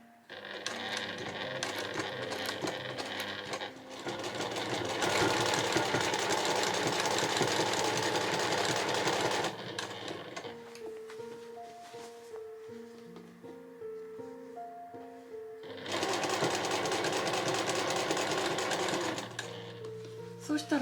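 A home sewing machine stitches a two-way cotton shoulder bag, running in loud steady bursts with a pause between them while the sewer turns the fabric; a voice speaks over the machine and during the gap.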